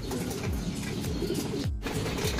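Racing pigeons cooing close by in Maasin, Leyte, soft repeated throaty coos overlapping in a low rhythmic pattern, with faint chirps in the background.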